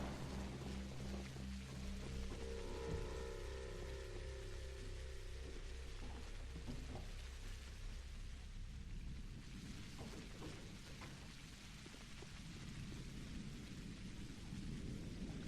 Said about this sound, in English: Sure rains an awful lot in this town.